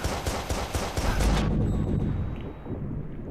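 Rapid gunshots from Watch Dogs fire in a quick, evenly spaced burst of about eight loud cracks, then stop and leave a fading tail and quiet background.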